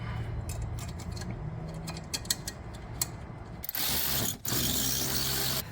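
Ratchet clicking in short bursts while a strut is bolted up on a PT Cruiser during a lowering-spring install, followed by a louder, steady rushing mechanical noise near the end; no talking.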